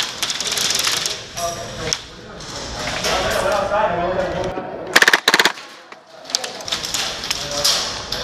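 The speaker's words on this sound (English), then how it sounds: "That's a lot of fire coming this way." Heavy bursts of gunfire in an indoor combat arena during a team deathmatch in Orlando, a rapid rattle of shots with sharp clusters around the middle, heard amid players talking and shuffling.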